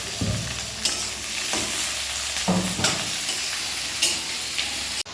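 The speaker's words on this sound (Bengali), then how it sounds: "দিয়ে এবার সবগুলো ভালো করে নাড়াবো" Chilli chicken with onion, capsicum and tomato sizzles steadily in a pan while being stirred, with periodic scraping and clanking strokes of the spoon over the continuous frying hiss.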